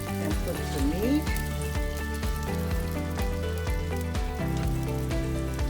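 Oxtail meat sizzles loudly in the hot buttered pot of an Instant Pot pressure cooker, with a steady frying hiss and crackle, while some light clattering from the cookware comes through.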